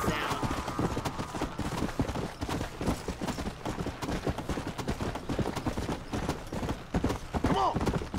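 Galloping horse hooves in the Red Dead Redemption: Undead Nightmare video game pound in a fast, steady clip-clop rhythm throughout, with a brief whinny near the end.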